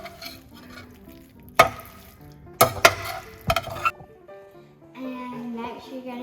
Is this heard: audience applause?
no